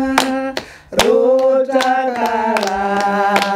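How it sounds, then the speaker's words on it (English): Sharp hand claps keep a steady beat under voices singing a song in Limpopo Province, South Africa, each clap crisp and close. "We clap then?"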